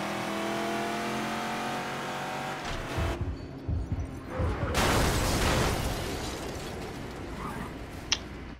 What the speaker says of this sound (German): Boah, die Gangschaltung.